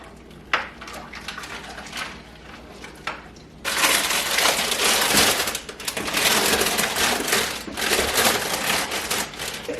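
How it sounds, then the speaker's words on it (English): Brine and ice water are stirred inside a turkey brining bag: a few sharp clinks of ice, then bursts of loud sloshing and crunching ice churning close up. "And then we give that a stir."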